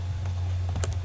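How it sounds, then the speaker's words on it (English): Fast typing on a computer keyboard, a short run of light, faint clicks over a steady low hum. "Typing fast."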